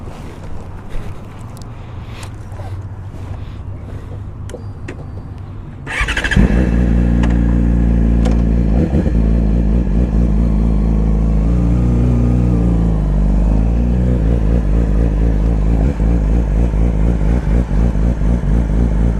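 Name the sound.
2014 Yamaha R6 sport bike engine starting and revving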